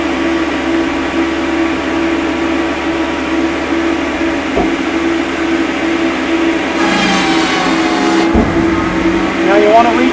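A firewood processor's saw head runs at full RPM with a loud, constant engine drone, then cuts a clamped log with a harsh, high grinding rasp lasting about a second and a half.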